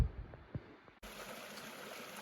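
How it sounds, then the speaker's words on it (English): A small creek trickles along a forested backcountry trail by the Red Deer and Clearwater rivers, a soft steady wash of running water that grows fuller after the first second, close by and alone with no voices. "Little creek."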